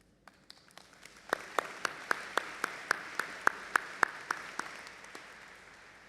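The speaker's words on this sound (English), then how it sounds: "come on, applause" A small audience claps, building quickly to a steady burst of applause and then fading out over several seconds.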